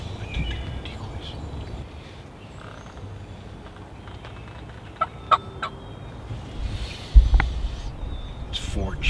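Several wild turkeys, young males, gobble in short bursts from a moderate distance, with rustling and a few nearby noises in an outdoor setting.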